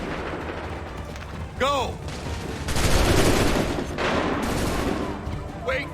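Musket volleys in a video game battle, heavy rolling fusillades that swell and fade over several seconds, with shouted commands and a brief voice cutting through the loud, smoky din.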